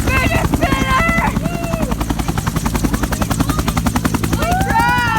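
Helicopter rotor chopping loudly and rhythmically up close as it takes off, a fast steady thumping pulse under excited shouting voices.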